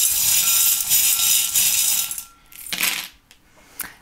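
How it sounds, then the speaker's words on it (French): Small metal charms cast for a divination draw make a bright jingling rattle as they tumble and clink together, then settle with a few scattered light clinks, close up and with no talk. "On va faire un tirage avec les breloques pour voir ce qui ressort pour vous."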